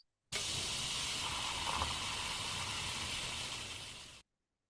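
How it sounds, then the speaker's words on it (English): A steady, broad hiss of spraying water starts abruptly, holds evenly for about four seconds, then cuts off; no voices. "This is a sprinkling water sounds."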